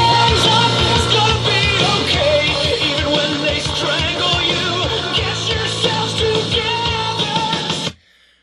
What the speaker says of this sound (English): Now it's going to be primarily drums, bass, vocals with the guitars too soft.